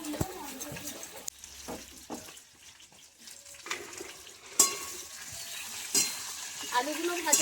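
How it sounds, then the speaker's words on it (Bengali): Potatoes fry in a pan for a mustard and poppy seed recipe with tender drumstick stalks, a soft continuous sizzle with occasional clinks and scrapes of stirring, plus a brief watery splash. "আলুগুলো ভাজা ভাজা হয়ে গেছে"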